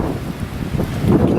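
Wind blowing outdoors on a cold, 28-degree day, a steady low rumbling roar of gusts buffeting the microphone, loud and continuous with no talking.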